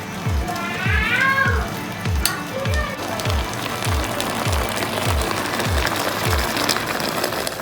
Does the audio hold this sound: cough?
no